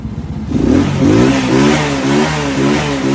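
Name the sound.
child imitating a motorbike revving on a bicycle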